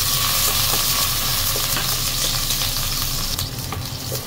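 Garlic sautéing in hot cooking oil, a loud, dense, continuous hiss and sizzle heard up close with a few faint stirring scrapes and no talk.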